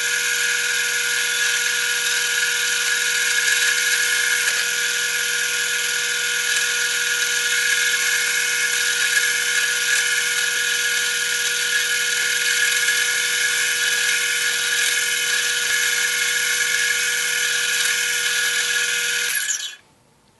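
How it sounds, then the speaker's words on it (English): A high-pitched drill boring into wood whines at a constant speed for nearly twenty seconds, loud and close, then abruptly spins down and stops. "now I'll show you drilling the hole for the front where the little dowel will go"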